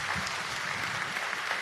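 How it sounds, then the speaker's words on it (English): Audience applause after a presentation on the Red Summer of 1919 and the Elaine Massacre, an even, dense roar of many people clapping, steady and moderately distant throughout. "Let's give them another round of applause."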